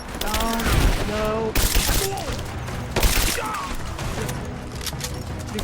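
Gunshots pop in rapid bursts during a firefight in Rise of the Tomb Raider, with several loud, sharp volleys standing out above the background while in-game voices talk over the shooting.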